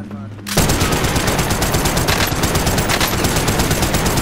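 Heavy automatic gunfire in Call of Duty: Warzone, a quads match in Rebirth mode, erupts after a brief quiet voiced moment and roars on as loud, continuous rapid fire to the end.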